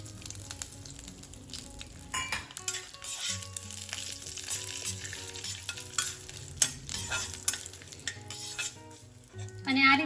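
White sesame seeds and small cashew pieces roasting in a pan over mustard seeds, with sizzling and a spoon stirring and scraping, brief clinks of utensil on metal throughout.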